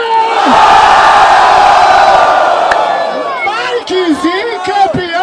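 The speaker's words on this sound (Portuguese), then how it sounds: "Barulho para as rimas de Kurt!" A large crowd roars and cheers at a Brazilian rap battle final in Barueri, loud and sustained at first, then breaking into scattered whoops, shouts and yells close by.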